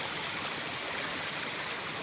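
Steady rushing water fills the scene, a continuous broadband roar of a mountain waterfall in the Samani Valley, Azad Kashmir, heard close by, with no voices over it.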